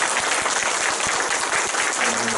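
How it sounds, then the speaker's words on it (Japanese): A Japanese rally audience claps steadily throughout, a dense, continuous burst of applause filling the hall. "社会さんに拍手を。"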